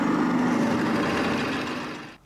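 A 12.5mm drill boring through steel plate: steady motor whine and grinding chatter run continuously, then wind down and stop at the end.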